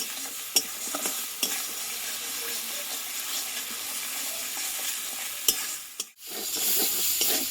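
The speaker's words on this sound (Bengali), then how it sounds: "মশলাটাকে ভালোভাবে কষিয়ে নেব" Whole spices sizzle and crackle as they are fried in a pan, with occasional sharp taps of a spoon stirring and a brief lull near the end.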